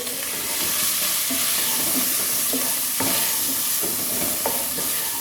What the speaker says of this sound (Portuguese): Minha carne tá fritando, tá até pulando agora.